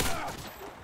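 FAMAS burst fire in the video game Modern Warfare 2 gives a quick, sharp cluster of gunshots, loud and clipped in under a second.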